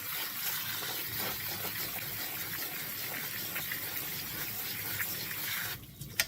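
Pinto beans being rinsed under a running kitchen tap, a steady gush of water hissing into a sink that cuts off abruptly near the end.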